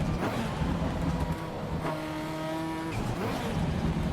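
Engine roar from a racing car in the game Assetto Corsa Evo, revving steadily with a sharp tonal whine mid-clip as it downshifts, continuous and fairly loud.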